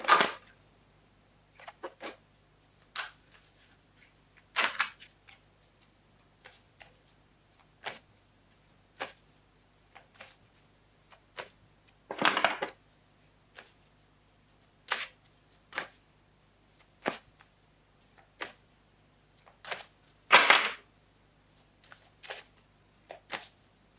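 Oracle cards are shuffled by hand indoors: repeated soft riffles and taps in irregular bursts with quiet pauses, close and fairly faint, with no talking.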